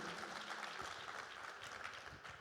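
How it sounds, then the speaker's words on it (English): A quiet, steady round of audience clapping for a CEO speaker, heard from a distance and continuous throughout. "So give him a big round of applause."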